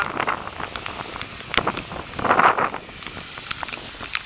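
Heavy rain falls during a bicycle ride on Shangchuan Island, a dense wash of drops mixed with wind buffeting the microphone and scattered sharper taps and gusts.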